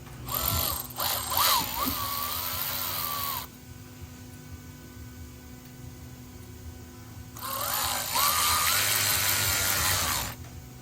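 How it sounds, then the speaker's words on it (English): Ratchet tightening 10 mm bolts while installing an aftermarket truck bumper, two bursts of quick clicking separated by a quieter gap, close and fairly loud with no talking. "You go ahead and tighten these down. These are 10 mils on both sides."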